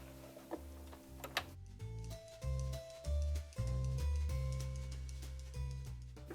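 A sewing machine stitches fabric scraps together. It gives a close, steady mechanical whir with rapid ticking, running in several short bursts with no talking.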